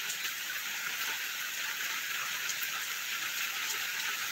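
Heavy rain pours down in a steady, dense hiss of drops striking surfaces, loud and continuous with no voices over it.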